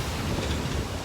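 Water rushes steadily past an old mill's water wheel beside a road, a broad, constant roar mixed with wind noise on the microphone.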